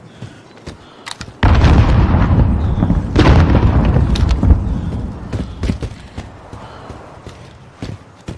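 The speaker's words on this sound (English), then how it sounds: "Frag going out." A frag grenade goes off in the multiplayer shooter Modern Warfare 2, one loud, close boom that holds for a few seconds and then rolls off, with gunfire cracks scattered around it.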